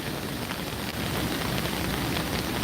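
Rain falls steadily on an umbrella on a wet day in New York near the City Hall Park fountain. A close, even hiss of drops holds throughout, with no talk.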